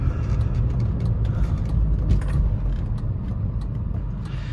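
A 2001 BMW E46 M3 coupe with a 3.2-liter S54 straight-six and six-speed gearbox, driving along with a steady, low engine and road rumble that stays fairly constant throughout.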